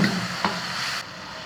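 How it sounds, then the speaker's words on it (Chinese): Chili, pickled ginger and garlic stir-frying in hot lard, a loud close sizzle with a single scrape of the spatula, the hiss dropping slightly toward the end. "先炒一下"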